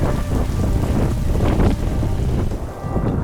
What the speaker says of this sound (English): the brutal wind and rain of the ocean cliffs of Northern Ireland.